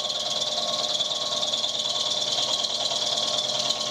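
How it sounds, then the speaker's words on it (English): A steady, high whirring and rasping from a machine tool taking a decent cut as a brass part is machined flat, continuous and close with no pauses. "you're taking quite a decent cut here and just machine it flat"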